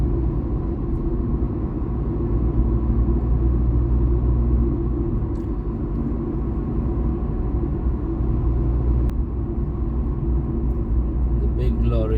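Road traffic on a city route toward Pondicherry rumbles steadily, a low continuous engine drone from vehicles close by, with faint clicks and rattles scattered over it.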